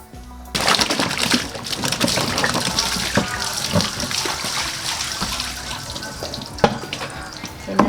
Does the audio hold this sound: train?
no